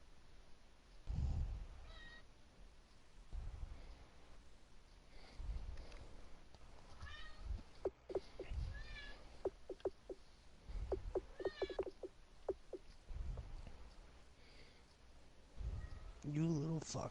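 A house cat meows several times, with drawn-out and rising calls scattered among a person's speech in a room, the clearest cries bunching up in the middle.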